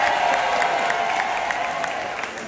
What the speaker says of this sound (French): ça s'applaudit, merci.